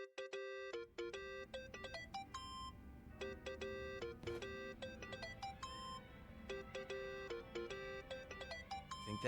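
A phone ringtone rings in Yakuza: Like A Dragon, a bright repeating electronic melody of quick beeping notes that loops steadily over a low background rumble.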